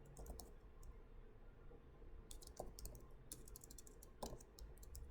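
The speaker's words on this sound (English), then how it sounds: "I'm going to type in the address that I'm currently working at." Keystrokes on a computer keyboard as an address is typed, irregular bursts of light clicks with short pauses, close and moderately quiet over a faint steady room hum, no voices.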